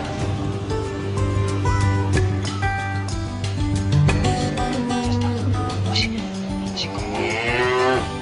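Wagyu cattle moo repeatedly, deep drawn-out calls overlapping from several animals nearby, with a steady background bed of sound.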